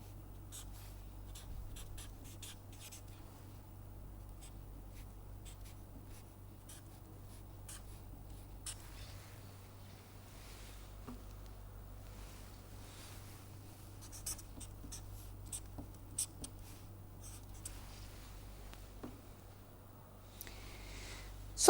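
Chalk or marker drawing a dot-dash line on a lecture board, a faint, steady series of short scratchy strokes over low room hum, with no talking.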